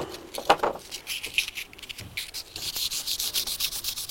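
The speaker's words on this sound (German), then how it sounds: "Dann schleife ich das mit Schleifpapier, mit einer feinen Körnung." Rhythmic scratchy rubbing of fine sandpaper on a picture frame, close up, strokes repeating quickly and steadily after a couple of knocks at the start.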